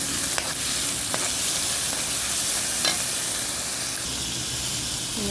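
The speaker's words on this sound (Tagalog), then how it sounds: "Ginisa ko na yung bawang sibuyas. Ito guys, yung maliliit na hipon." Small shrimp sauté in a hot pan with garlic and onion, filling the space with a continuous dense sizzle and hiss, with occasional faint clicks of stirring, close and steady with no voices.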